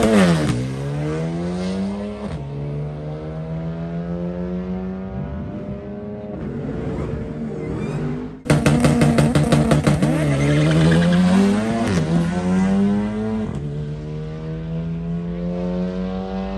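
A 2017 Audi A3 Quattro making 430 wheel horsepower accelerates hard, its engine rising loudly through the revs, a brief drop at a gear change, then climbing again to a screaming pitch before easing off.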